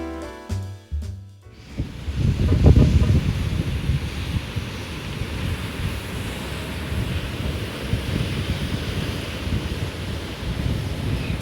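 Ocean waves break and wash continuously at a Hawaiian beach, a loud steady roar of surf with rumbling swells and gusting wind on the microphone, preceded by a brief burst of other sounds.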